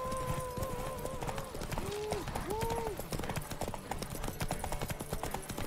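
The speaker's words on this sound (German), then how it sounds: "Basti heißt sein Pferd, okay." A horse gallops in The Witcher 3, its quick, steady hoofbeats clattering throughout while a voice talks over them with rising and falling pitch.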